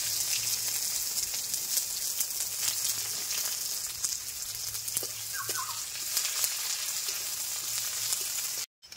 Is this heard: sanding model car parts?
no